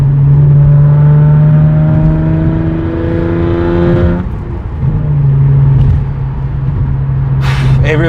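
Hyundai Genesis Coupe 3.8 R Spec cruising at 70 mph on a highway, a steady loud cabin drone of engine and road noise with a low hum throughout and a brief dip midway, tools rattling faintly in the back.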